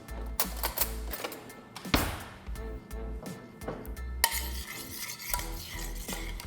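A spoon clinks and scrapes against a plate as blueberry butter sauce is ladled over wild salmon and kale, giving close, sharp metallic taps spread irregularly across a faint sizzling background.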